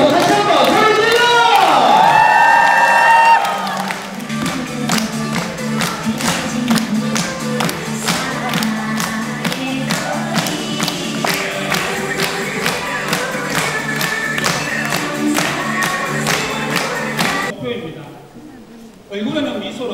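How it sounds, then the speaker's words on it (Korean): Workshop audience in Daegu clapping steadily and cheering, a dense continuous patter of hands under a loud amplified host voice and music, ending abruptly near the close. "여러분 다 같이 박수 함께!"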